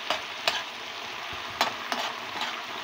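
Jute leaves (pat shak) frying in a pan for a village-style bhaji: a steady soft sizzle with a few sharp scraping stirs of a utensil, close and without speech.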